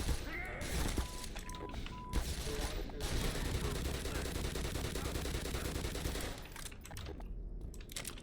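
Sustained automatic gunfire from the video game Black Mesa rattles in dense, rapid bursts for several seconds, loud and close, with a few short beeps early on before the firing tapers off.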